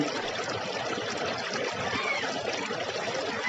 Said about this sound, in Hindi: फिर देखिए, ये कलकल करता हुआ पानी